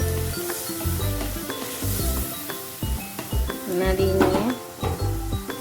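Cumin and coriander paste sizzling in a hot pan while being stirred, steady frying hiss with occasional utensil clinks, under background music with tonal notes throughout.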